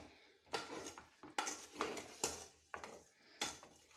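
Plums being mixed with sugar in a bowl for plum jam: repeated scraping, clacking stir strokes about every second, close and fairly loud, with no talking.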